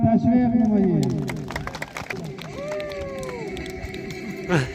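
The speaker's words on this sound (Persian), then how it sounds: "تیم اتحاد جانه را تشویق نمایید" A crowd cheers at the opening ceremony of a local football cup for the Ettehad Janeh team. The sound is a rising outdoor roar with shouts and whistles mixed in, and it carries on under a loud announcer's voice.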